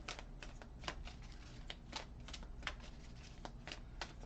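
Tarot cards are shuffled close and quiet, a run of soft, irregular riffling snaps and flicks repeating steadily for a few seconds, with no voice.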